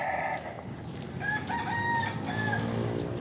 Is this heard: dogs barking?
no